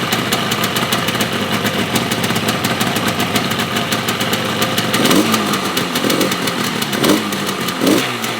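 An abandoned Yamaha RD350 two-stroke motorcycle runs after ten years, its engine idling in a fast steady buzz with a few throttle blips late on, close and loud with no talking.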